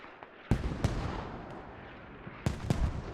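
Artillery barrage in a video game, a handful of sharp booms and cracks scattered over a dense rumbling wash of distant gunfire, with two clustered blasts near the start and two near the end.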